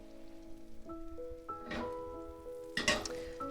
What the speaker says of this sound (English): it is a proper sizzle